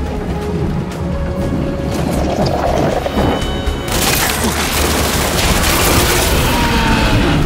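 Rocket fire and explosions in the Gears 5 video game campaign: loud, dense bursts of booming blasts and mechanical clatter that intensify into a continuous roar of gunfire and detonations.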